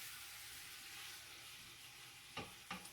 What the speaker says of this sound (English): So while that's sauteing in there and getting going